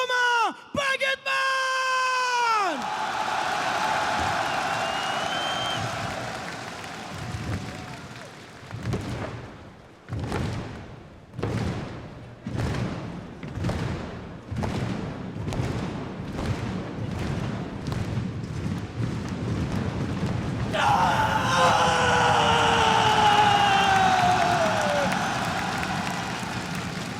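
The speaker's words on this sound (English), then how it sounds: "faire un tonnerre d'applaudissements et de rentrer en rythme avec lui" A large Paris esports arena crowd at the EU LCS Summer 2017 Grand Finals claps in a steady rhythmic beat, loud and close, with cheering and whoops rising around it and a voice shouting over the noise.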